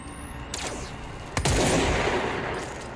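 Rapid bursts of gunfire from the kitchen gun in the video game Control, a sharp volley near the start followed by a louder sustained burst, loud and close with no talk.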